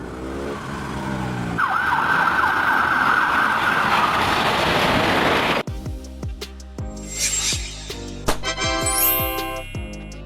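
A Czech ambulance, such as a Mercedes-Benz Sprinter, Volkswagen Crafter or Fiat Ducato, sounds its siren loudly and close, first as a steady wailing tone and then as a rapid warbling, swooping pattern, with traffic noise underneath.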